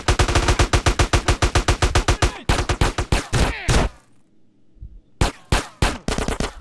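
Combat shotgun blasts in GTA San Andreas ring out as loud, rapid bursts of closely spaced shots, broken by a brief lull before a few more close, punchy rounds.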